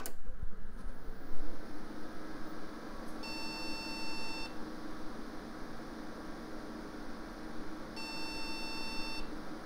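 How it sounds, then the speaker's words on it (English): Early-2000s computer motherboard sounding POST beep codes for a memory error: two slow, long beeps several seconds apart over a steady fan whir, after a brief click at power-on. "slow beeping, that means memory error"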